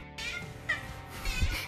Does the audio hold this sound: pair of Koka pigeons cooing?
no